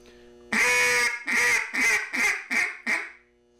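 A duck call blown in a slow cadence: a long opening quack followed by five shorter, evenly spaced quacks, loud and close with nothing else heard.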